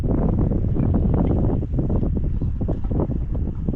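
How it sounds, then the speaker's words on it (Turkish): Strong wind buffets the microphone out on open water while fishing for whiting, a loud rumbling gusty roar that rises and falls, with faint splashing underneath. "Rüzgar da çıktı."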